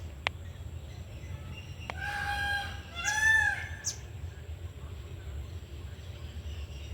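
A peacock calls outdoors in a green backyard garden behind a house: two loud, nasal, wailing cries in quick succession, rising over a low steady hum of background noise, with no one speaking.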